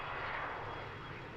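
Airplane at Harrisburg International Airport during nighttime cargo operations with UPS and FedEx freighters, a steady broadband engine roar that stays loud and constant throughout, with no voices over it.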